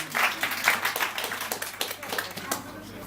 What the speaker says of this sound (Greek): ας δώσουμε ένα χειροκρότημα στους χολερικούς